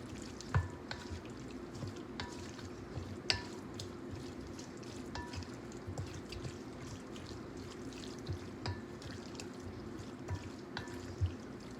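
Seasoned wild duck pieces are stirred in a pot, giving faint, sporadic scraping clicks over a low, steady background hum.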